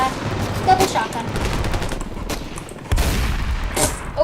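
Shotgun blasts in the shooter game Raven Field (Ravenfield) sound among continuous loud battle noise, with several sharp bangs standing out over a dense roar of gunfire.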